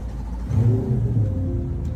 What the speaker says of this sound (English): This looks like a Z06, right? But listen to this. It don't sound like a Z06.